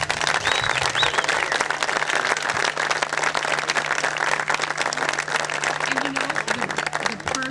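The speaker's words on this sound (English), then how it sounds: "So give her a round of applause." Audience applause at an amphitheater dedication celebration, a steady, dense wash of clapping from a crowd that holds at full strength for the whole stretch, with a faint low hum underneath.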